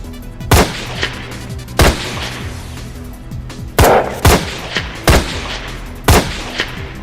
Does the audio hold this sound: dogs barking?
no